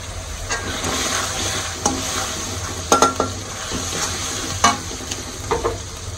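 Whole spices — bay leaf, cardamom and cinnamon — added with ground nut paste and roast masala to a pan, giving a steady close sizzle with scattered stirring scrapes and soft utensil clinks.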